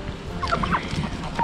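Turkeys on a small farm give a few short, soft gobbling calls in quick succession close by, over low background noise.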